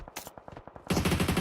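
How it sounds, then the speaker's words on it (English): Gunfire in the battle royale game PUBG Mobile during an esports playoff match: quick bursts of distant shots, then a louder sustained automatic volley of rapid, evenly spaced rounds. "We do hear a lot of gunshots here"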